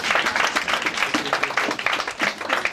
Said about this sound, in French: Applaudissez pour leur cœur.